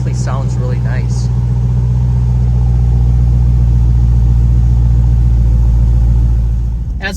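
A Jeep Grand Cherokee SRT with an MBRP Armor Lite exhaust rumbles loudly and steadily from close by, a deep continuous drone that fades slightly at the end, with a voice heard briefly at the start.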